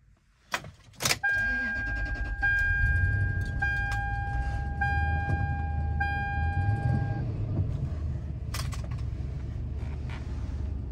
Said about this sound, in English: I'll put a little clip here of this car starting and driving